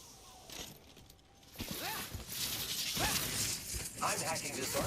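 An IMC armory is hacked open in Apex Legends, with clattering, ratcheting mechanical sounds and sliding metal that build louder over several seconds, while voices talk over it.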